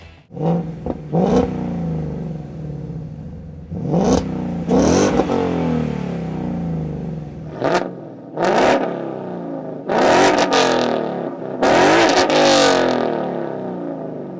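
A Ford Mustang GT V8 exhaust with a cut and clamp resonator delete X-pipe revs repeatedly, sharp throttle blips and longer rising roars with deep rumbling idle between them, loud and close.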